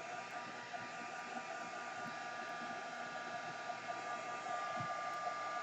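A hair dryer blows steadily on paint spread across a canvas, a constant, close, even whooshing drone that barely changes throughout, with no talking.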